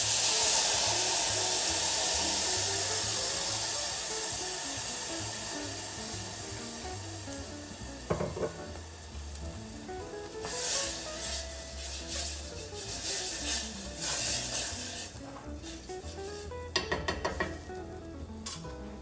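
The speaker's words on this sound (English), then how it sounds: "here we have the base for our risotto. Can you hear it sizzling?" A risotto base sizzles in a pan, a loud hissing fry at first that gradually fades, followed by scattered stirring scrapes and clinks of a utensil against the pan.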